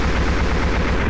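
Aircraft machine gun strafing in the military game ARMA 2, a dense, loud, continuous burst of rapid gunfire that fills the whole moment without a break.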